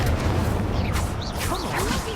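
Incendio fire spell cast in Hogwarts Legacy, a dense, continuous roar of whooshing, crackling bursts, loud and close for the whole stretch.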